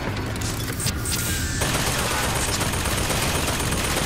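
Dense, continuous gunfire in BioShock Infinite, a steady loud barrage of rapid shots filling the whole stretch with no pauses.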